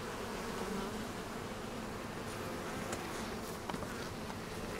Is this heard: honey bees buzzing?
yes